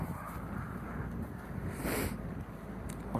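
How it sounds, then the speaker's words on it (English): Steady wind rushes past a sailboat on the Chesapeake Bay, a continuous broad roar buffeting the microphone with a brief stronger gust midway. "Wow, with all this wind."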